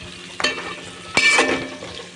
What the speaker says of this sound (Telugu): కొంచెం నూనె వేసుకొని దాని నెక్స్ట్ ఆనియన్స్ వేసుకోవాలి